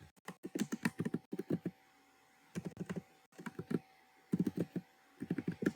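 Computer keyboard keys being typed in quick bursts of clicks, a title entered for a document on accessibility options in Windows, with short pauses between flurries; close and clear with no voices.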